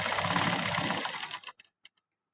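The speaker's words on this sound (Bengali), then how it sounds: "মেশিনে মারলাম ব্যাক সাইড বলে" Sewing machine stitching a hook placket on fabric, a steady fast whirring run lasting about a second and a half, then stopping with a few brief clicks, close and fairly quiet.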